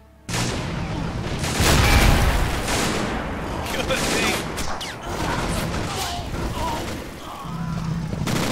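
Panzerschreck rocket launcher firing in the WWII strategy game Men of War: Assault Squad 2, with heavy booming blasts rising out of dense battlefield gunfire that rumbles and crackles throughout.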